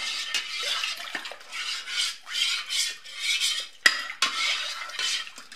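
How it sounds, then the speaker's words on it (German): A utensil scrapes and swirls around a metal pot of honey and water for pumpkin mead in repeated rhythmic strokes, with a couple of sharp clinks against the metal. "alles einmal gut umrühren"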